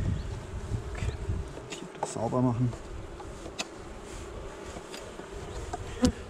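Honey bees buzz steadily around an opened hive during an early-spring inspection at an apiary, a soft continuous hum close by, with someone talking over it and small clicks from handling the frames.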